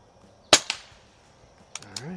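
A sharp, loud crack from an air pistol, AMT Lightning or Crosman 1701P, fired at a target, followed by a softer echo and then a brief voice and faint clicks.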